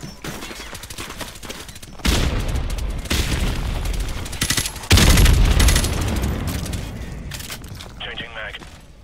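Suppressed gunfire in Call of Duty Modern Warfare Remastered on PC: repeated muffled bursts and thuds, some louder bursts near the middle, over continuous game noise, with someone talking throughout.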